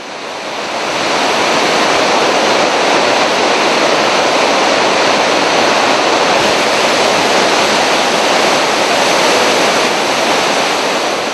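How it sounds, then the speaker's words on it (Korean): A loud, steady roar of heavily falling water, broadband and unbroken, from the Blue Nile Falls in Ethiopia heard from close by, rising in after the first second. "나일강에서 가장 아름다운 경관을 자랑하는 청나일 폭포입니다."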